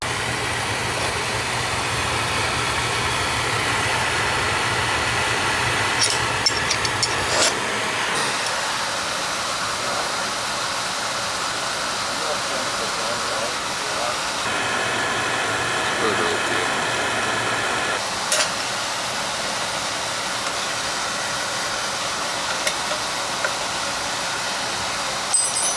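Oil-fired boiler burner roaring steadily after a nozzle change and air band reset, a constant broadband rush with a low hum that shifts slightly partway through, with faint talk in places.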